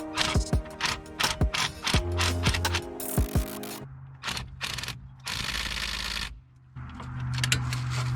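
A ratchet turns bolts on the front axle of a Ford Expedition with rapid clicking bursts, broken up by pauses and clanks of metal tools, all close and without talk.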